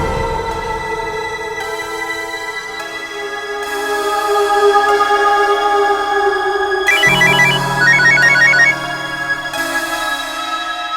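A mobile phone rings with an incoming call from a father, a steady electronic melodic tone that repeats and swells louder, with a brighter beeping pattern midway, and no talk over it.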